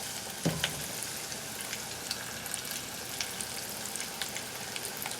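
Frog legs fry in a pan of oil over reduced heat, a continuous close sizzle scattered with small pops and crackles, one sharper pop near the start, no speech.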